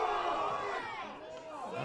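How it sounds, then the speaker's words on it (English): A field hockey crowd at Hale vs Melville roars in unison, appealing for a penalty corner, a dense sustained wall of shouting voices throughout. "Well, the crowd all appealing"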